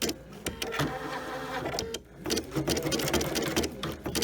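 A PFAFF creative icon sewing machine runs steadily while quilting a pattern, its motor hum and rapid needle stitching continuous and close, with a brief pause partway through.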